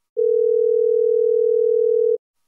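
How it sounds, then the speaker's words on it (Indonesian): A telephone call tone sounds while dialing out: one steady, unbroken electronic tone that lasts about two seconds, clean and alone against silence. "Mas Adam, ayo dong angkat telepon aku."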